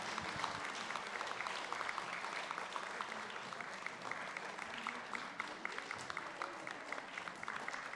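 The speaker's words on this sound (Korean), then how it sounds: "우리 박수로 함께 축하해 주시기 바랍니다." Congregation applauding an infant baptism during a Sunday service in a Korean Presbyterian church, with steady, sustained clapping from many hands filling the room, even and continuous and somewhat distant.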